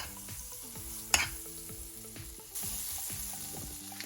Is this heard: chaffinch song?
no